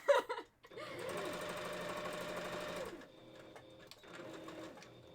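A sewing machine runs a zigzag seam on fabric handpaws in one steady two-second burst, then a softer, shorter run follows, close by, with brief laughter just before.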